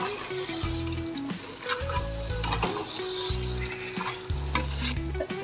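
Tomatoes fry with masala in a pan for a mutton red gravy, a continuous sizzle and stirring scrape running under steady background music.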